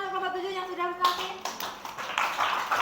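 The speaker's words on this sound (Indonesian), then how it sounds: "Kita beri tepuk tangan untuk kelompok 7 yang sudah presentasi." Classroom students applauding a group after its presentation, a burst of close scattered hand claps starting abruptly after a sustained tone, with children's voices mixed in.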